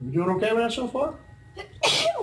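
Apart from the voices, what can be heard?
sneeze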